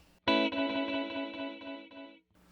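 Eventide Ultratap delay sounding a dense, chorus-like cluster of repeated taps that sustain for about two seconds and gradually slow and fade before cutting off, alone with no talking.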